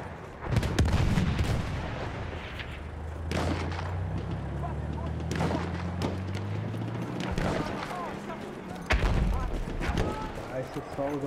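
Artillery and gunfire from the World War I shooter Battlefield 1 roll in heavy booms and scattered shots, with a low droning engine underneath and someone talking over the battle.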